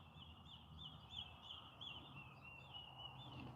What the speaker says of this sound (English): I'm noticing the bird sounds. That was a big one just now.